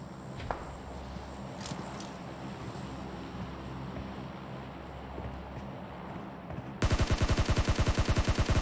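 Sustained automatic gunfire in the battle royale game BGMI turns into a loud, rapid burst of shots near the end, with scattered footsteps and distant firing underneath.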